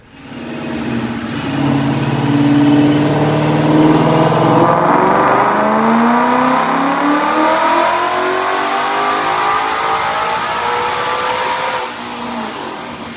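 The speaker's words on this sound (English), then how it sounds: "Check out this dyno pull." A car engine fitted with a Novi 2200 supercharger kit on a 3.8 pulley roars through a dyno pull, revs climbing steadily for about ten seconds with rising supercharger whine, then dropping off, loud and close.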